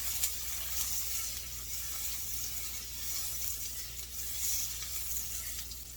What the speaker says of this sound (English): You kind of want to brown the butter just a little.